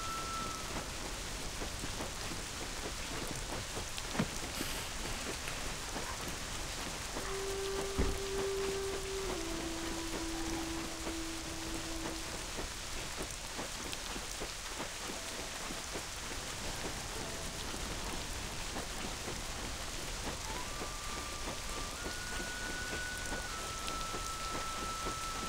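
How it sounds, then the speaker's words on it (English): Steady rain falls in the Black Desert Online video game, a dense, even patter of drops on surfaces that holds throughout, with a few faint tonal game sounds on top. "Looks like it's a rainy day here today."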